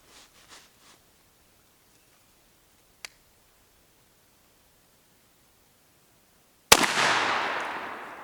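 One sharp shotgun blast from a budget turkey load fired at 20 yards through a modified choke, a sudden loud crack with a long decaying roar outdoors, preceded by a few faint clicks and a single tick.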